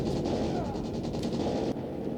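Muffled grenade launcher fire and explosive bursts in Call of Duty Mobile rumble through a short stretch of noisy game audio, heavy low booms with a few sharper cracks.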